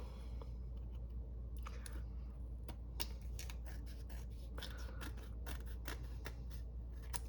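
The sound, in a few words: scissors trimming off excess material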